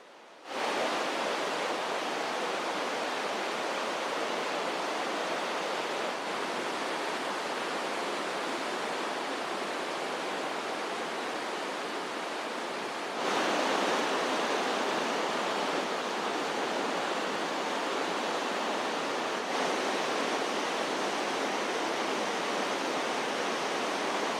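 A river in a park on Vancouver Island, British Columbia, rushes steadily for a long stretch, a dense, even wash of flowing water that swells slightly louder partway through.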